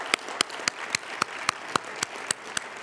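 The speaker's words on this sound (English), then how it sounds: "let's give a round of applause to them as well" About a dozen sharp, evenly spaced claps ring out against a faint background at a scholarship reception, as if one or two people are applauding slowly.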